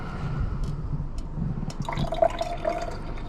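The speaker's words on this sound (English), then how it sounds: "So I'll carefully pour this off." Rinse liquid is poured off a container while gold is rinsed, giving a quiet trickling and splashing of water with a few small drips, close and faint, with no talking.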